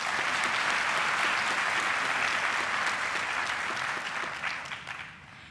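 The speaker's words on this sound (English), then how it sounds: "let's give another round of applause" Audience at an autumn graduation ceremony breaking into sustained applause, a dense wash of hand claps filling the hall, steady before fading toward the end.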